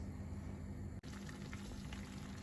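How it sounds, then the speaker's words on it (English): Sev bhaji curry bubbles and simmers in a pan, a dense steady crackle and bubbling throughout, close and alone, with a brief dropout in the middle. "So now as you can see, it's boiling."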